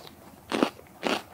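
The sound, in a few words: biting into a raw cold-hardy garden vegetable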